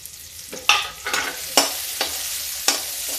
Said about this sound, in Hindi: मेरा तेल गरम हो गया है। हम इसमें लहसुन और प्याज डाल देते हैं।